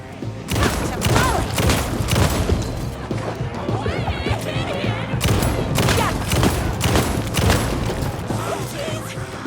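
Gunfire in Alan Wake 2 as a fight breaks out, a dense run of sharp, loud shots and impacts spread over several seconds, mixed with game effects and a voice talking over the action.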